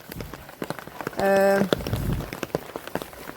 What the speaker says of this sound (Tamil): கல்பானம் முழுக்க இப்படி தான் மழை பெய்யுது